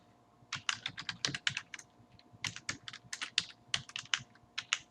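Rapid typing on a computer keyboard, a quick run of close, crisp key clicks in uneven bursts with short pauses, no voices over it.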